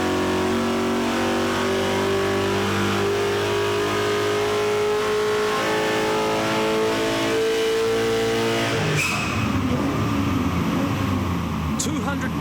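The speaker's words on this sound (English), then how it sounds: "It's time to see how much power the V8 has." V8 engine of a 2005 import performance car revving on a dyno power run, a loud rising drone that climbs steadily for about nine seconds before cutting off to a rough, noisy wind-down.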